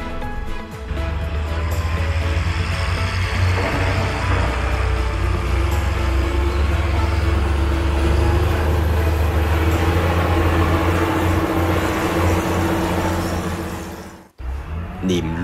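A John Deere 7830 tractor drives with a steady, loud diesel drone and low rumble that holds for about fourteen seconds before cutting off sharply, while a voice talks over it.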